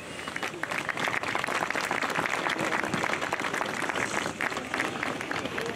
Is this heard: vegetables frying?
no